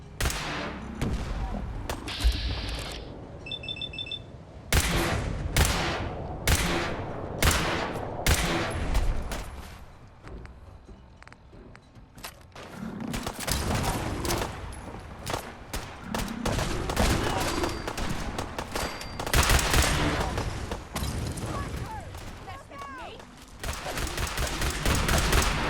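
Dense gunfire during a battle in Fallout 4: Far Harbor, with rapid bursts and sharp shots in dense clusters, loud and continuous with short lulls.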